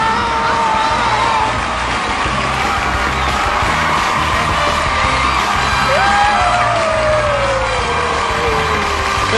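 A studio audience on a Chinese variety show applauds and cheers as guests are welcomed, a loud, steady wash of clapping and whooping that holds through the whole stretch with no pause.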